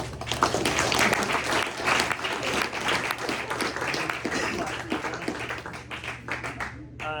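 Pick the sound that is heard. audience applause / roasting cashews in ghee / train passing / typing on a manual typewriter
audience applause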